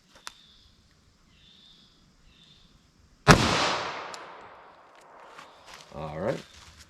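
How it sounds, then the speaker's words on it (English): A single sharp, loud .45 ACP gunshot fired into a block of clear ballistics gel outdoors, a hard crack followed by a long decaying rumble, with faint footsteps and light handling noise around it. "we'll do our plain clear ballistics gel shot"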